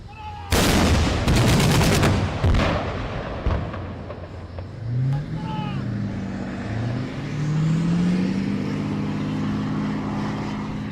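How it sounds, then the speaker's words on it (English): Live-fire demonstration with two Pendekar vehicles and two 35mm guns engaging a target: a rapid burst of loud, sharp cracks and booms in the first few seconds, then a rumbling aircraft or engine drone with fading echoes. "Please protect your ears and ready for firing."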